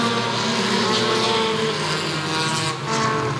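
A pack of 4-cylinder race cars roars continuously at a speedway during a Dash for Cash race at Sauble Speedway, engines droning loud and steady with a slight dip near the end.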